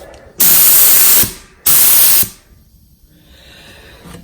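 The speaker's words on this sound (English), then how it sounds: "I'm going to just do a really light spray" Two loud, steady bursts of spray hiss from an HVLP spray gun applying Rust-Oleum protective enamel, each lasting about a second, separated by a brief gap, followed by quiet background hiss.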